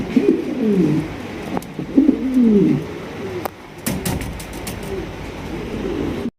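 A male Andalusian shaking pigeon coos in repeated low, rolling phrases close by, with faint clicks and light background noise between calls.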